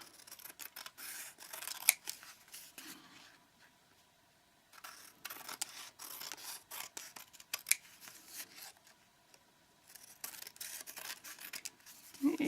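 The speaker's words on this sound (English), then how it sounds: "get a pair of scissors and just follow the line" Close, quiet snipping and slicing of scissors through paper in several runs, separated by brief pauses of near silence.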